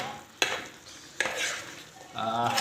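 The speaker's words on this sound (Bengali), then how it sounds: "এখন খালি নাড়তে থাকি। আলু দেয়া নাড়ো নাড়ো নাড়ো, আলু দেয়া নাড়ো।" Spoon scraping and stirring camel hump meat with potatoes in a cooking pot, with two sharp clanks against the metal and a soft sizzle building near the end, close and without talk.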